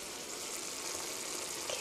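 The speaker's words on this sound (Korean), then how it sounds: "이렇게 치즈가 녹을 때까지만 끓여주시면 돼요" Tomato soup with melting cheese simmering in a pot, a steady soft bubbling and faint sizzle throughout, quiet and continuous with no voices.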